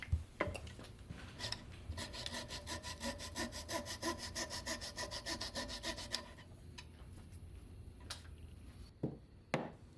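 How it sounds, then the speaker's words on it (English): A hand saw cuts excess wood from the notch corners in walnut for a boat's breasthook, making a quick rhythmic run of rasping strokes for about five seconds, followed by scattered knocks and scrapes, fairly close. "saw to cut out a little bit more of the excess in the corners where the notch will be chopped"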